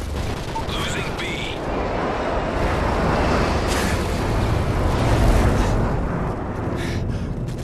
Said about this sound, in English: Nighthawk, you are cleared for bomb. Loaded HQ, bombs away.